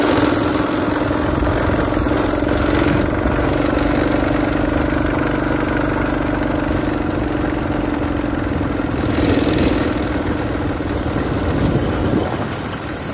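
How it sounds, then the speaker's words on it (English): A minibike engine runs hard through a downhill top-speed run with the wind behind it. It drones loud and steady for the whole stretch, with some clatter and rushing wind mixed in, and nobody speaks. "Now I'm doing a top speed test downhill with the wind at my back and a running start."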